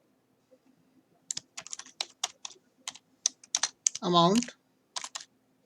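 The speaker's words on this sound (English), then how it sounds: "Now I type the formula here, C2 multiplied by" Keystrokes as a formula goes into an Excel spreadsheet on a computer keyboard: quick, close, crisp clicks in irregular bursts, with a brief spoken word in the middle.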